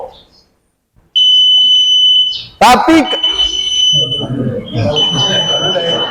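An electronic alarm beeps loudly in a prayer hall, a steady high tone that cuts off, followed by a sharp burst and further beeping while someone speaks over it.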